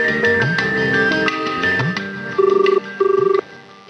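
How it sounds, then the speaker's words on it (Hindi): A telephone rings in two short electronic trill bursts that stand out over background music, fairly loud and close. "राधिका, मुझे पता था ये तुम्हारा ही फोन होगा।"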